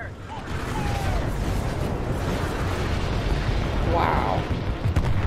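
Heavy booming cannon fire and weapons discharges roll on without a break in Titanfall 2, a steady loud barrage of blasts with a brief whooshing streak near the end as firing begins.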